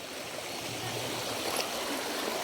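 River water flows steadily near a cave, a constant rushing wash of moderate loudness with no voices over it.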